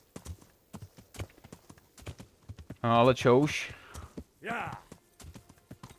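A horse's hooves clip-clopping at a steady walk in the medieval video game Kingdom Come: Deliverance, sharp evenly spaced hoof strikes heard up close, with someone talking briefly over them.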